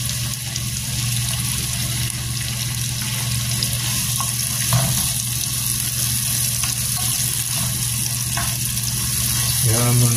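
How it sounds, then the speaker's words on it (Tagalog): Tomatoes frying in a pan for a pechay and sardine dish, a loud steady sizzle running throughout with faint stirring clatter near and close. "Kailangan muna natin maluto yung ating kamatis"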